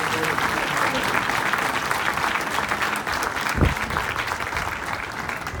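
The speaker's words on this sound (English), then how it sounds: "Another big round of applause for Jimmy Allen, Mike Pinckney, Oscar Bodie, and the foundation, 605 Innovation District" Steady audience applause at the 605 Innovation District launch event, dense clapping from a crowd throughout with a brief thump midway.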